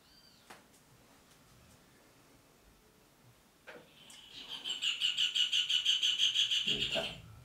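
A small bird nearby gives a quick, even series of about a dozen high, sharp chirps after a few seconds of quiet.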